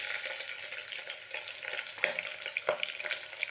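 Onion and green chilies sizzle in a pan of hot oil tempered with cinnamon and bay leaf for tomato rice, a bright, continuous close hiss with a few stirring scrapes and clicks.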